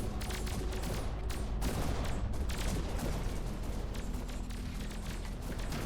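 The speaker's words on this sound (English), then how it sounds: "Oh, it's like little plasma torpedoes." Plasma torpedoes firing in a space real-time strategy battle, rapid volleys of crackling shots and blasts packed densely over a low rumbling hum, with a voice talking quietly underneath.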